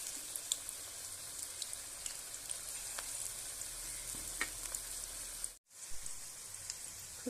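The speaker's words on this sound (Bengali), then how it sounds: "একটু সময় নিয়ে কিন্তু ভাজতে হবে লো আঁচে।" Soybean pakoras fry slowly in oil over a low flame, giving a soft, even bubbling sizzle with faint crackles and a brief drop in sound near the end, with no talking.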